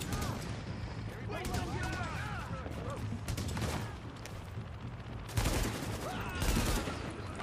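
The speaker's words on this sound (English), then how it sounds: "Oh my god, I'm taking heavy fire." Heavy gunfire erupts in the video game Tom Clancy's The Division during a tunnel fight, with rapid bursts and sharp volleys in close succession while a voice talks over the shooting.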